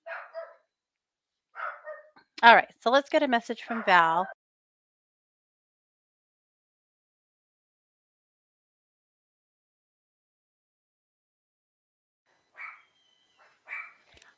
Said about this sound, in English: I got barking dogs.